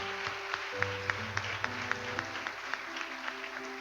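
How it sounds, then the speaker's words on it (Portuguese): A church congregation claps in a steady rhythm over organ-like music during a worship service, sharp evenly spaced claps standing out above the sustained tones. "Aplaudir o Senhor Jesus."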